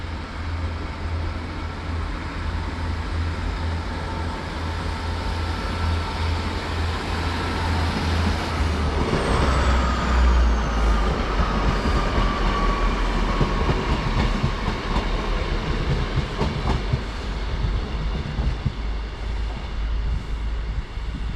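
A passenger train departing Lancaster station on the Morecambe branch rumbles steadily close by, wheels clattering over the rails as it gathers speed, with a brief high squeal partway through.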